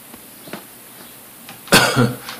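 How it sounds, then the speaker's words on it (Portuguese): A single sharp nervous cough near the microphone, with a brief rougher follow-up, after a quiet stretch with faint clicks, during horror game play. "Perdão pelas tosses aí pelo pessoal. É uma tosse nervosa."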